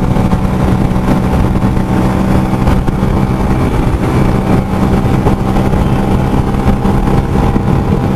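A Bajaj Freedom 125 CNG motorcycle is ridden on CNG in fifth gear, giving a steady, loud drone of engine and wind with no breaks throughout.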